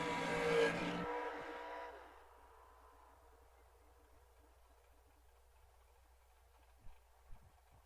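Drag racing cars at a Great American event finish their burnouts with a loud, roaring blast of engine and tire noise that cuts off abruptly, leaving a low idle rumble and a couple of faint later thumps.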